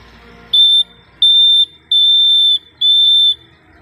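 Morse code beeps for the letter L, a simulated signal of four steady, shrill electronic tones with varying lengths and short gaps, loud and isolated with no talk.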